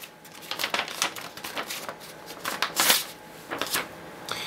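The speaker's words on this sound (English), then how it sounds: "First step is to fold the computer paper in half." A sheet of computer paper being folded in half by hand: a steady series of close, crisp crinkling and creasing rustles with no voices.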